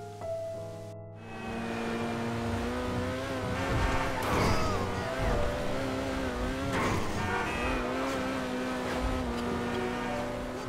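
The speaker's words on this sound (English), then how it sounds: "what I do notice is the engine constantly revving. It will sort of short shift and then just catch on the revs, and it just sounds horrible." Supercar engine in GTA Online revving hard at full throttle, droning steadily with repeated rev catches and shifts, loud and close, with no talk over it.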